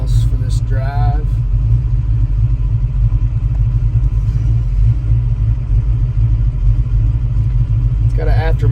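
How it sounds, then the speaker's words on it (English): A 1966 Shelby GT350 with a four-speed idles after a cold start, a loud, steady, deep engine rumble running throughout, with brief higher-pitched whirring sounds near the start and end. "That was a cold start. Car hasn't warmed up yet."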